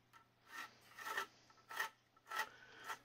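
A drywall panel is cut out in short rasping strokes, about five separate sawing bursts with quiet gaps between them, faint and close, over a low steady hum.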